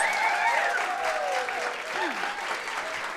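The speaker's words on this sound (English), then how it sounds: "a round of applause" Audience applause after a song at a Seattle book club music night, steady dense clapping at moderate volume, with a voice speaking over it.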